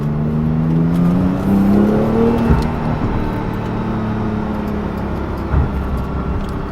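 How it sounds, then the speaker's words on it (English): A Porsche 911 Turbo S on the move: a steady engine drone with rising and falling tones as it accelerates, and brief whooshing turbo and blow-off valve bursts heard close inside the cabin. "can even hear the turbos for the blow-off valve"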